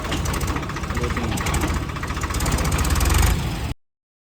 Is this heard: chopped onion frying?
no